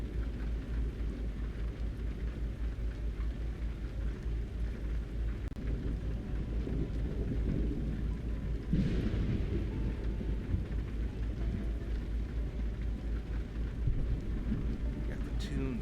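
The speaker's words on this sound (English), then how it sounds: "I love driving in the rain with this." Steady in-game rain with rolling thunder while driving a truck in Euro Truck Simulator 2, a dense continuous wash with a louder rumble near the middle, heard under faint background talk.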